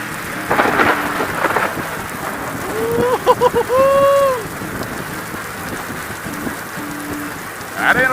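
Heavy rain pours steadily during a thunderstorm while riding a Honda GoldWing GL1800 motorcycle, with thunder rumbling through and a brief tonal voice-like sound rising midway.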